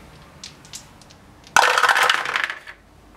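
Combat dice tumble in the HeroQuest board game: a sudden loud clatter that rattles and bounces for about a second before dying away, with a few faint clicks beforehand and no talking.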